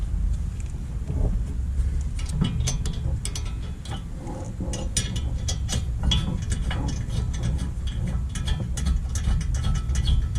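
A 7mm Allen bolt on a Honda Civic Type R electric rear brake is tightened with a ratchet, giving a close, continuous run of rapid clicking.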